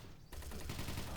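A shotgun blast from the video game Doom 3 Golden Edition sits among a dense, fairly quiet layer of in-game ambient noise, the shot itself no louder than the surrounding background.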